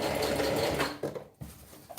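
A sewing machine stitches pants in short runs, a close, fast mechanical whir that starts and stops with brief pauses between bursts, no speech.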